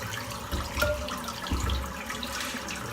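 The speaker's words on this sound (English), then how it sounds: "Rinse the brush out." Running tap water streams over a shaving brush held in a sink, a soft steady rush with brief splashy swells as the brush is moved through the flow.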